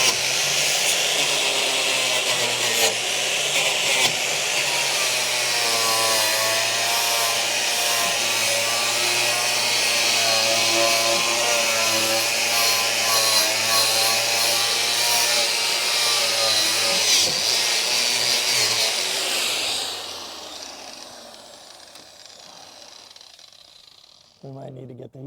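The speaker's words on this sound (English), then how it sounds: "The grinding wheel's getting rid of most of it" Abrasive grinding wheel stripping spot welds and undercoating from a Chrysler Charger crew cab body, a steady loud whirring grind with harmonic whine running about twenty seconds before winding down.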